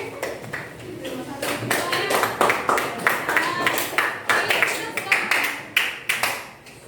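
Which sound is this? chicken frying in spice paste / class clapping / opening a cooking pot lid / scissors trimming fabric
class clapping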